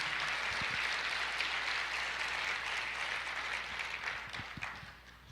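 A church congregation applauds together in a dense, steady wash of clapping that fills the whole stretch, thinning slightly toward the end.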